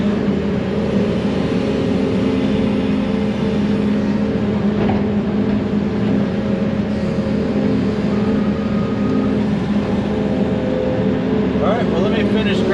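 A skid steer's engine runs steadily and loudly up close while rocks are gathered on a farm for a big rock wall, a constant droning rumble throughout with a voice talking over it.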